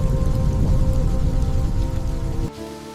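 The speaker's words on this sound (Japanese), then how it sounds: "The first drops of rain began to fall, cool against the humidity." Rain falls on a humid path as a steady, dense hiss and patter of drops, fairly close and loud, over a faint sustained hum, then abruptly thins to a quieter wash for the final half second.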